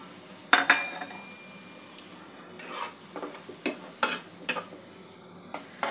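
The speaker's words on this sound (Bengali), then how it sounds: "সমস্ত মশলার সাথে একটু ভালো করে ভেজে নিতে হবে" Spiced chhana filling with coriander, cumin, chilli and turmeric powders frying in a pan, soft sizzle under sharp scrapes and clinks of a spoon stirring, several distinct knocks spread across the few seconds, close and clear with no talk.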